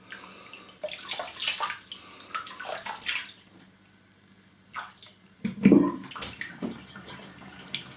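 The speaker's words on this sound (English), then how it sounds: "Put a little bit of hot water back in there." Hot water runs from a tap into a shaving soap tub in short, irregular splashing bursts with gurgles and pauses between them, close by and moderately loud, with no talking.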